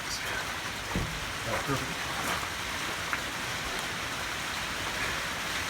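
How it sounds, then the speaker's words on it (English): Steady rain falls outdoors during a VW Beetle windshield replacement, a soft even hiss with scattered drop patters, fairly faint; someone speaks briefly over it. "Now it's raining."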